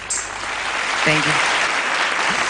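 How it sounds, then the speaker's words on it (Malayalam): Audience applause after a singing performance on a televised Indian singing contest, a steady even wash of clapping throughout, with a brief voice heard partway through. "ഒരു വലിയ കയ്യടി"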